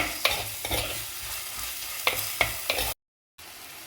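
Crab curry masala sautéed in a pan: steady frying sizzle with a few sharp spatula scrapes and taps, close by, with a brief silent gap near the end and no talking.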